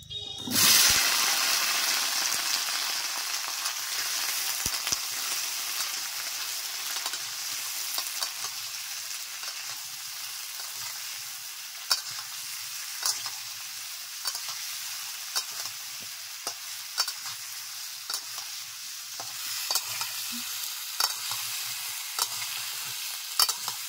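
Pumpkin pieces tipped into hot oil in a home kitchen, giving a steady loud sizzle and hiss that runs throughout, with occasional stirring scrapes and small clinks near the end.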